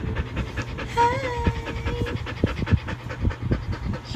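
A pet dog named Simba pants in quick, steady breaths close by, with a few brief voices and household noises mixed in over the rhythmic panting.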